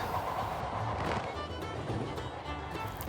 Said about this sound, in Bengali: এই পদ্মার মাঝখান দিয়ে ট্রেন ছুটে চলেছে